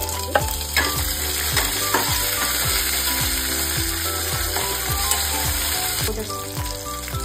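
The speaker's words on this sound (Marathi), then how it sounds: "हा कढीपत्ता जो आहे, कढीपत्ता सुद्धा आपण घालायचा" Cumin seeds and curry leaves sizzle steadily in hot oil for sabudana khichdi, a loud continuous crackle with soft rhythmic bumps of stirring underneath, no voices.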